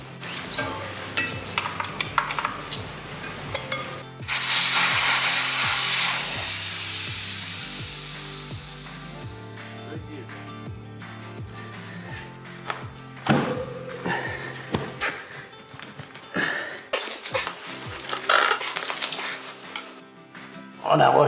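Tire bead being broken off a Suzuki DR650 motorcycle wheel with hand tools, a loud irregular series of metallic clanks, scrapes and knocks, with a long grinding rub partway through and a burst of strikes near the end.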